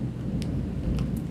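Thunder rumbles through a steady rainstorm, a low continuous roar of rain with soft thunder underneath and a few brief sharper crackles near the top end, loud and unbroken for the whole stretch with no voices.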